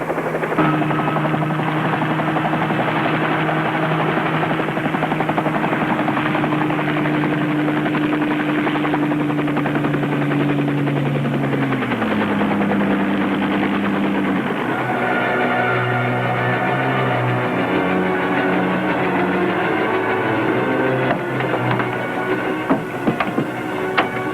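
A helicopter sets down after a plane crash, its rotor and engine drone steady and loud throughout, the pitch dropping partway as it lands and winding into a shifting whine near the end.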